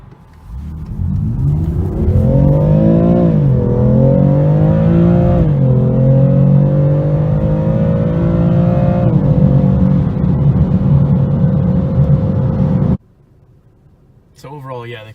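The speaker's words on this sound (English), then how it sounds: "the car does sound pretty nice, and even nicer on the track" A loud BMW M4 Competition engine revs and climbs through gears with a deep, throaty roar, holding a steady drone before cutting off abruptly.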